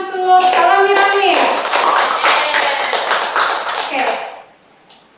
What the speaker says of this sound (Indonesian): beri tepuk tangan untuk Alami Rami